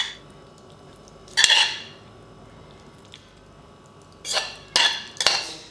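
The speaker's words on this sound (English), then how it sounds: "Give it a mix through or toss through, whatever you're more comfortable with." Spaghetti bolognese being tossed with parsley and parmesan: a few scattered metallic clinks and scrapes of utensils against a pan, with soft wet squishing in between, close and moderately loud over a quiet background.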